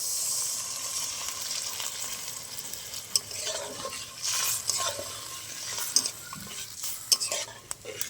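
Ginger garlic paste being stirred into browned onions in a pan while cooking chicken biryani at home, with soft sizzling frying and scraping spatula strokes against the pot, plus a few sharp metallic clinks, close and without talk.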